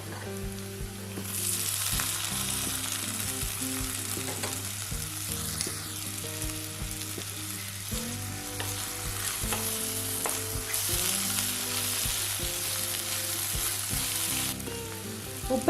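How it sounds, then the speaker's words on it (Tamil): Okra sautéed in oil sizzles and fries steadily in a pan with masala, with a spoon stirring and scraping through it, continuous and close. "அடுத்ததான் நம்ம எண்ணெயில் வதக்கி வச்சிருக்க வெண்டைக்காய் சேர்த்திடலாம்."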